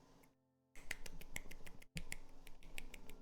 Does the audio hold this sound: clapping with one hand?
yes